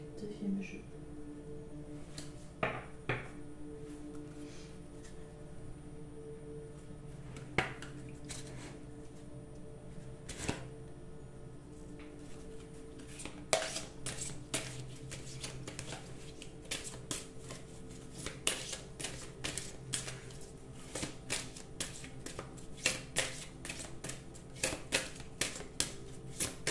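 A deck of oracle cards is shuffled in bursts of dry riffling and flicking, sparse at first and then rapid and dense, with a voice speaking quietly beneath.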